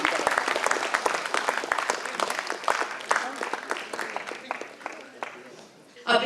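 An audience claps at a science festival prize announcement, a dense steady round of applause that swells early and slowly thins toward the end, heard up close without talk.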